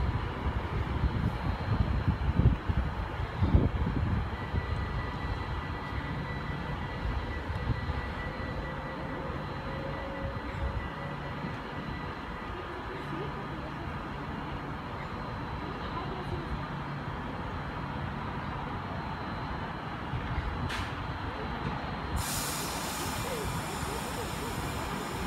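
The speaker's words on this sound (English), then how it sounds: "we have a Manchester Piccadilly service departing, about to depart platform number 6" At Milton Keynes Central, a Manchester Piccadilly train pulls out of platform 6 with a low rumbling engine drone and rolling rail noise that steadies and fades, faint tones and station sounds over the top.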